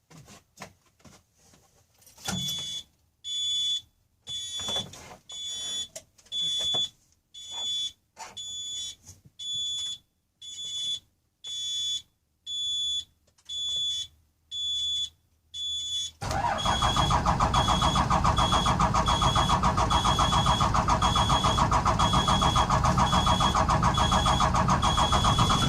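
A bus engine with a newly fitted electric fuel pump, unstarted for five days, cranks in a long series of rhythmic bursts, then catches and settles into a loud, steady running roar.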